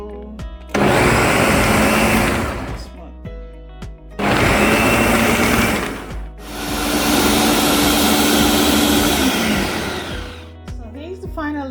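A blender whirs through a smoothie of oats, nuts, lemon and ginger in three loud bursts, roughly two, two and four seconds long, with short quiet gaps between them.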